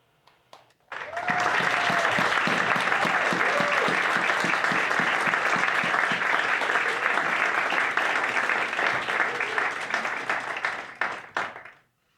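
An audience at a student storytelling showcase gives a speaker a sustained round of applause, loud, dense clapping that swells in abruptly, holds for about ten seconds with a few cheers, then fades out.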